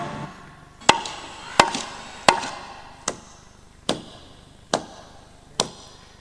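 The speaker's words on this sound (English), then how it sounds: "Chopping wood" Wood being chopped with an axe, seven sharp cracking strikes at a steady, unhurried pace, each ringing briefly before the next blow, outdoors with no voices.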